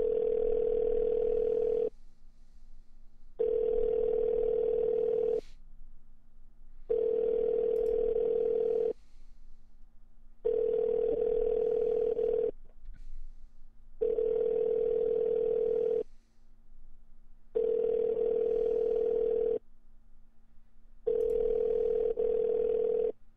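Telephone line tone after a call is ended, a steady hum-like tone pulsing on and off at regular intervals of about two seconds, repeating seven times with no voices.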